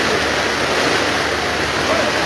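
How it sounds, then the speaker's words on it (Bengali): Heavy rain pours down steadily in a dense, loud, unbroken roar at a cattle market, with no pauses throughout. "আমরা গরু কিনতে এসেছিলাম কিন্তু বৃষ্টির মধ্যে আটকে গেছি"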